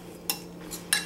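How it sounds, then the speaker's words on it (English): A fork breaking up cooked potatoes, two or three short metallic clinks and scrapes against the dish, close and quiet, with no talk. "And I'm going to break them up with my fork."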